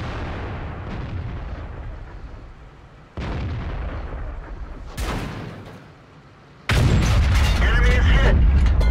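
In a tank video game, a heavy SU-152 gun fires with a deep booming blast and then a second louder explosive roar near the end, over rumbling battle noise.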